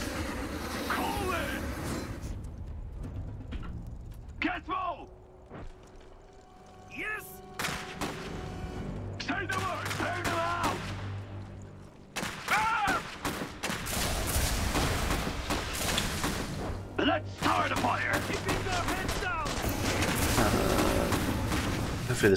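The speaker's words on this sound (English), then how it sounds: "Of course, they're mortars." Mortars fire in the Iron Harvest beta, a wartime strategy game: repeated booming blasts and gunfire crackle spread over a busy battle mix, with someone talking over much of it.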